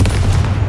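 Confringo fire spell blast in Hogwarts Legacy, a dense, sustained explosive roar with heavy low rumble and crackling bursts filling the whole moment, loud and close with no voices.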